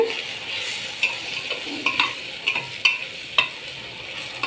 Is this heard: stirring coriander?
yes